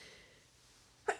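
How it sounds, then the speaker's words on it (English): A single sharp sneeze bursts out near the end after a stretch of quiet room tone, close and loud. "oh my God, the sneeze finally came out"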